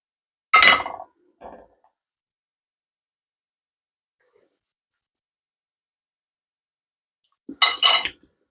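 A metal spoon clanks against a pot of chicken curry in a few short, sharp bursts, two close together at the start and one near the end, with long silence between.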